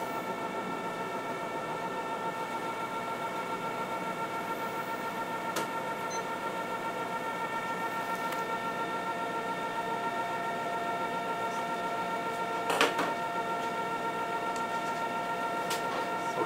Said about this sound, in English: put it into the mix machine. Just a minute. One minute in a vacuum.